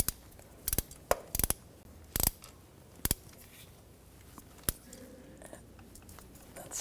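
A starter bolt on a 2013-2019 Ford Escape 2.0L is tightened from underneath with a ratchet, giving scattered sharp metallic clicks and clacks in irregular bursts against a quiet background.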